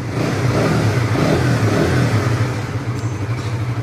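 A Suzuki GSX-S150 motorcycle engine revs up while warming up in neutral, loud and close, holding a steady high drone before easing off slightly, with no talking.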